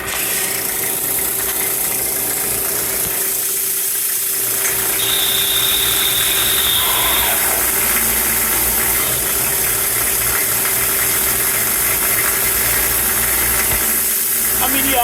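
A Mazak CNC lathe runs with coolant flowing while turning 316 stainless steel bushings, a steady loud machine hum and hiss with a faint high whine partway through, continuous with no talk.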